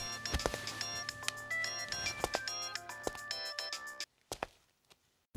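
A mobile phone rings with a melodic electronic tune of repeated tonal notes, mixed with thuds and movement sounds, then cuts off into near silence with a few brief knocks, in a Tamil action thriller.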